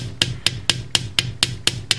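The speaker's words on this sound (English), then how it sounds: "it's just a chemical process that actually happens in the wire when you hammer it, as it becomes harder" Metal wire for earrings is struck with a hammer on a hard surface, eight sharp, evenly spaced ringing taps in a quick steady rhythm, close and clear with no talk.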